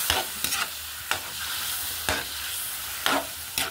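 Chicken sizzling in a frying pan, with a utensil scraping and stirring it in several sharp strokes spaced about a second apart over a steady, close hiss of hot oil.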